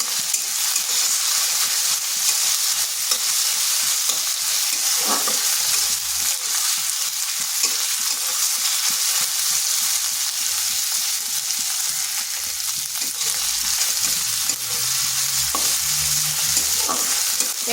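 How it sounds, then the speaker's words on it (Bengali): Ginger garlic paste frying with onions in a pan, part of cooking bottle gourd with masoor dal: a steady, loud sizzle runs throughout, with a few soft stirring scrapes and no talking. "এটাও একটু ভেজে নিচ্ছি, যাতে আদা আর রসুনের কাঁচা গন্ধটা চলে যায়।"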